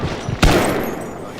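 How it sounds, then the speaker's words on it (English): Gunfire in Fallout: Tale of Two Wastelands erupts as a single loud, sharp report with a short echoing tail trailing over steady game background noise. "I don't know who I'm shooting at."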